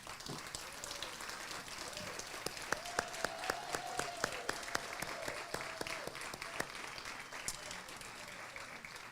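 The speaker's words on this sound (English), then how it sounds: "would you please stand and let us give you a warm round of applause." An audience at a hospital ribbon cutting gives a round of applause, faint and distant, with steady dense clapping throughout and a few louder individual claps, plus a murmur of voices.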